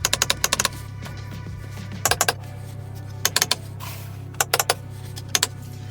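Paddle shifters on a BMW G-chassis car being clicked, crisp close clicks in quick clusters of three to six, repeated several times over a quiet steady hum.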